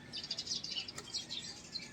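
Small birds in the Philippine countryside chirp in quick, bright repeated notes, fairly close and moderately loud over a faint outdoor hush, with no voices.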